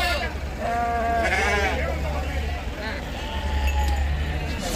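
Sheep and lambs bleat repeatedly at a busy open-air sheep market in Gudur, wavering calls overlapping nearby and farther off, under steady crowd noise and people talking.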